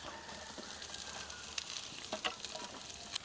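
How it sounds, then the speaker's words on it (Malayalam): Five finely chopped large onions frying in a pan for chicken samosa filling, a soft continuous sizzle with a few faint scraping ticks near the end. "ഉള്ളി ചെറുതായിട്ട് അഞ്ച് ഉള്ളി അരിഞ്ഞ് വെച്ചിട്ടുണ്ട് അത് നമുക്ക് ഇട്ട് കൊടുക്കാം"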